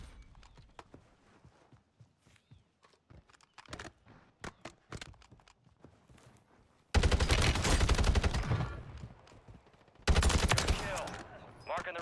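Automatic gunfire from an SOA Subverter rifle in the Warzone 3 video game, with scattered single shots and footsteps early on, then two loud, sustained bursts of rapid fire.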